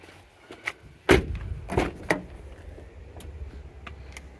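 A car door on a 2012 Nissan Tiida thuds shut with a solid low thump, followed by a second softer clunk and a few light clicks, close by with no talking.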